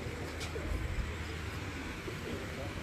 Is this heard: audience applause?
no